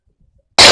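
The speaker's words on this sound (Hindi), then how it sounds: "सॉरी, खांसी है बेटा" One sharp, loud cough bursts out after near silence, close to the microphone.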